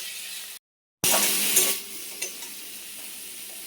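Steady sizzling of fried potatoes and bitter gourd being stirred in hot spiced oil for a Bengali bitter gourd curry, a continuous close hiss with a couple of scraping stirs after a brief cut.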